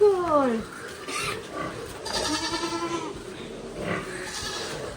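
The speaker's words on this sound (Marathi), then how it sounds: "तर बकरे बघू गेलो." Goats bleating on a farm, several wavering cries close by, one at the start and a longer one midway, with people talking nearby.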